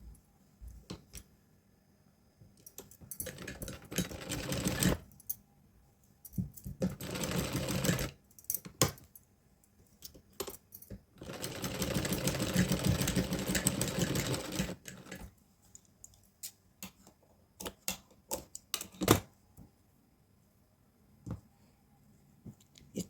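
A sewing machine runs a straight seam joining two fabric strips for a small Laddu Gopal doll dress, sewing in several bursts of a few seconds each, separated by quiet pauses and light handling clicks.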